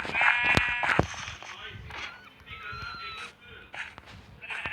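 Sheep bleat in the Minecraft video game, several short wavering bleats in a row, while a person talks and game sounds click over them.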